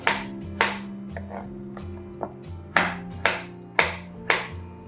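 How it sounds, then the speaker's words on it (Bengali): Onions, tomatoes and green chilies are diced into cubes for a curry: sharp knife strikes hit a cutting board about eight times in an uneven rhythm, close and clear with no talking. "কীভাবে কাটতে হয় জানি না তো ডুমো ডুমো করেই কেটে করে নেবো"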